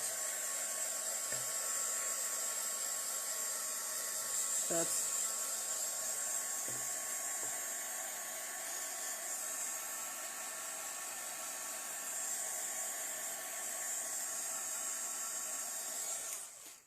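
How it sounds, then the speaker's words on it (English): A hair dryer blows steadily on freshly brushed black paint, a continuous close whirring hiss that holds level for about sixteen seconds, with a couple of small knocks early on, before cutting off at the end. "So let me just quickly dry it a little bit."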